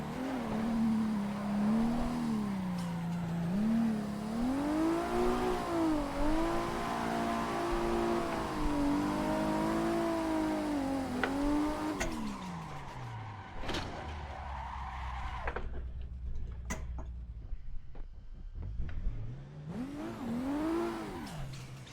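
Race car engine in Assetto Corsa drifting at Irwindale Speedway, revving hard and wavering as the throttle is worked, with long tire squeal and skidding, then a drop to idle with clunks before revving up again.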